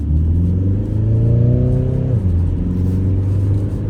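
Renault Megane 4 GT Line with automatic gearbox, engine humming steadily inside the cabin while driving, a rising tone that drops at a smooth gear change, loud and close.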